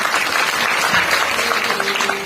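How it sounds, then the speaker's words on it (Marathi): A crowd at a Marathi kirtan during an akhand harinam saptah claps together, giving dense, steady, fairly loud applause that continues without a break. "जोरदार टाळ्या द्यांच्यासाठी."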